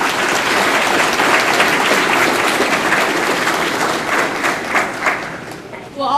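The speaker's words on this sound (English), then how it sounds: "Will you please give a round of applause for these green hands?" Audience applause at an FFA banquet, a dense, steady wash of many hands clapping that carries on throughout and thins slightly toward the end.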